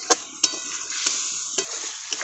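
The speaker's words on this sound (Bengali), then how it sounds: "এবার মশলাটাকে ভালোভাবে কষিয়ে নেব মশলার গায়ে তেল ছেড়ে যাওয়া পর্যন্ত" Spice masala fried in oil in a pan, stirred with sharp spatula scrapes against a continuous loud, close sizzle.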